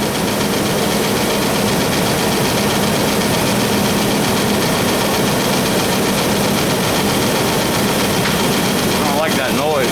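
A 4.3 V6 engine idles steadily with a continuous low rumble and broadband mechanical noise, loud and close throughout, with a few faint clicks near the end.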